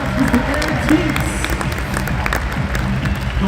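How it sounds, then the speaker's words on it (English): A crowd applauds at a summer party with hockey players, steady clapping mixed with cheering and talk, filling the space evenly from start to finish. "Another round of applause"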